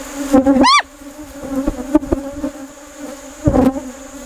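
Angry honey bees swarm close around a beekeeper's veil at the hive, a dense insect buzz with individual bees whining past, one sharp rising zip as a bee darts by, loud and continuous.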